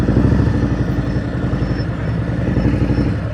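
Motorcycle engine putting along at low throttle during slow-speed practice maneuvers, a steady close, throbbing low rumble with a rapid pulsing beat and no talk over it.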